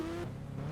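Car engine from the mobile game Indian Bike Driving 3D, a steady low drone with a brief tonal whine at the start as the vehicle reverses and pulls forward, alone and fairly loud.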